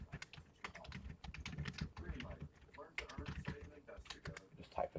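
Fingers tap rapidly on a computer keyboard in an uneven clatter of close clicks, while someone talks over much of it.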